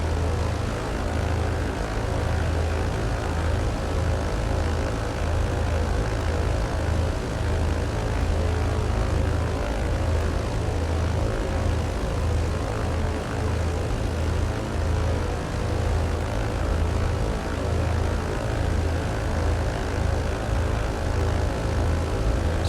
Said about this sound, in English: Alright, let's go full throttle and let's go flying.